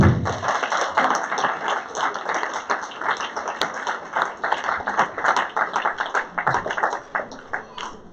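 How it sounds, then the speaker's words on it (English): An audience claps steadily for several seconds at a 40th anniversary celebration on Wightman Road, a dense patter of many hands that stays fairly even before thinning slightly toward the end. "give her a clap"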